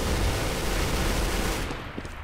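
Rapid bursts of gunfire from the game Counter-Strike: Global Offensive, a dense distant-sounding volley of shots that fades out after about a second and a half, no talking.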